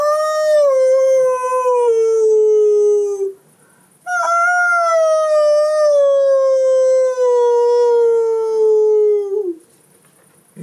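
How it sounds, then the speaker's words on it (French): A wolf howls in two long, loud, mournful calls, the first sliding downward before a brief silence, the second longer and tapering off, alone without any talk. "Puis, une nuit, ils entendirent le hurlement tristement célèbre de ce loup."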